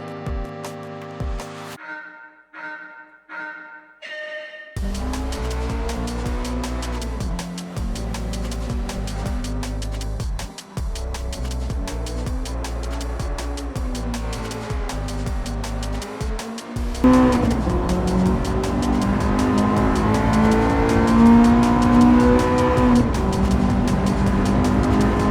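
A Honda Integra race car in Gran Turismo 7 drives a track corner, its engine droning steadily with a shift-like cut partway through, then rising louder with tire noise toward the end, no voices.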